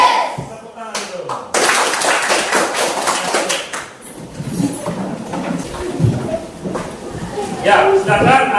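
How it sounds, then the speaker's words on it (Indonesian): Children clap their hands in a short burst of loud applause near the start, then the clapping fades into scattered taps beneath an adult voice speaking. "Tepuk tangan dulu."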